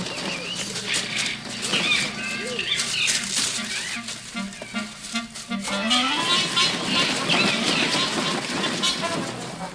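Crows and other carrion birds squabble around a lion kill in Gir Forest, their calls and wing flaps rising and falling over a steady outdoor background, with a louder, busier burst of activity in the second half.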